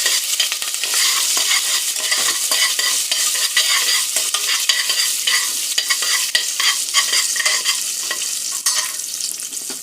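Cumin, ginger, green chillies and curry leaves sizzle steadily in a hot pan as they are sautéed and stirred, with a continuous crackle and occasional scraping of the spoon.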